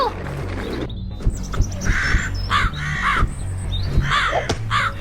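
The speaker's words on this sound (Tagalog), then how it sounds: "Saan ang galing ang lahat ng mga uwak na to?" Several crows caw repeatedly, harsh calls overlapping from different distances over a low background rumble.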